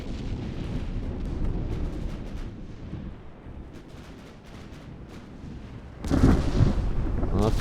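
Naval guns firing in the Ultimate Admiral warship game, a steady rumbling barrage of low booms that builds to a louder, denser burst of heavy shots near the end.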